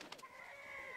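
A rooster crows with a long, sustained call lasting about a second after a brief clucking start, fairly close and clear.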